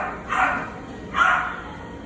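A French or English bulldog gives two short, muffled barks about a second apart against a low background hum.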